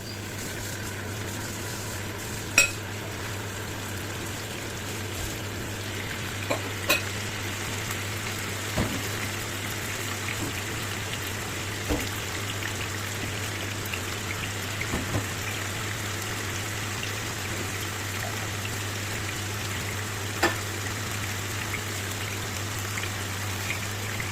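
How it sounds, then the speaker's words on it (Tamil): Chicken pieces frying in oil in a pan, with a steady dense sizzle and occasional small pops, close and continuous. "கோழி இறைச்சியை இப்போ நாங்கள் இந்த எண்ணெய்க்கு மேலே போட்டு பொறிச்செடுத்து கொள்ளுவோம்"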